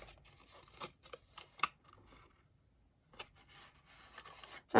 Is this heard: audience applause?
no